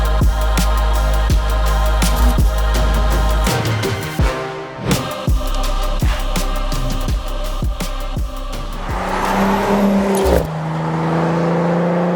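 A test car on Falken Azenis FK510 ultra-high performance tyres drives by, its engine revving and rising through several gear changes, loud and close, with a final swelling pass at the end.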